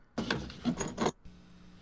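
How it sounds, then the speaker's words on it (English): Keys set back in a drawer in the game Gabriel Knight: The Beast Within, a short burst of three or four quiet metallic jangles and clinks lasting about a second, followed by a soft room hum. "Keys go back in the drawer."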